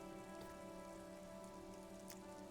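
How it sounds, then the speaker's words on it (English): Steady rain falls in the video game Disco Elysium, a continuous soft hiss of drops on surfaces over a low humming background, faint and unbroken with no voices. "This rain will not let up anytime soon."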